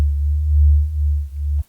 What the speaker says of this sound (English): select Basic Shapes and choose the sine wave, which should be the default position of the wavetable, and set the unison to around 10